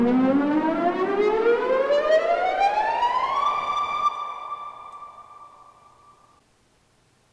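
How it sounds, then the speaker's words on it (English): A synth riser effect built in VPS Avenger sweeps upward in pitch for about three seconds, then holds a steady tone that fades out slowly, loud and alone with no talking. "So it now sounds more like a riser, doesn't it?"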